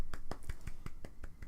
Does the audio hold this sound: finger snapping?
yes